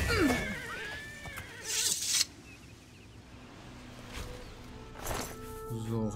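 A horse in The Elder Scrolls Oblivion whinnies loudly while being attacked, with shrill neighs near the start and again later. Clopping, combat noise and a voice come in between.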